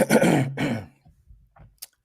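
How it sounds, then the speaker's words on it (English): A man clears his throat with two rough, close bursts, followed by a few small mouth noises and a brief sharp click in an otherwise quiet room. "Let me clear my throat for this."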